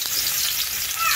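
Onions and garlic sautéing in a pan make a loud, dense, continuous hiss of frying oil, heard close and alone for a brief moment.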